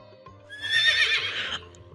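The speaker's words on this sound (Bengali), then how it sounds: "তো ঘোড়াটি আরো উপরে উঠে গেল" A winged horse in the Meena video game gives a loud, rising whinny that swells through the middle of the clip and then fades, with faint clip-clop beneath.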